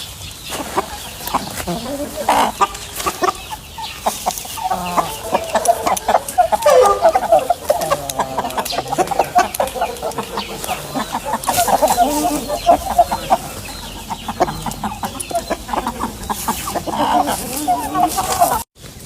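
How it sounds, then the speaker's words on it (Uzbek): Chicks hatched in February, young Shamo and Pirivaznoy chickens, clucking and peeping close by in repeated short calls, with someone talking over them. "Mana akalar, shu fevralda chiqqan jo'jalar"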